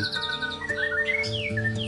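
A bright, varied white-rumped shama (a crossbred murai batu with Sabang blood) melody with rapid whistled phrases and trills, close and clear, with no voices present.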